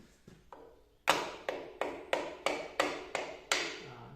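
A cotton mallet knocks a part of a Land Rover Series 2 front twin-cylinder drum brake during an overhaul, three soft taps followed by seven sharp, evenly spaced blows that each ring briefly, close up.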